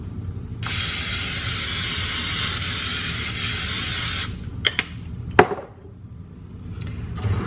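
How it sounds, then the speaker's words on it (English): Cooking spray hissing onto a baking pan in a home kitchen, one steady spray burst lasting several seconds, followed by a few clattering knocks and thuds. "let me go get the spray for the pan"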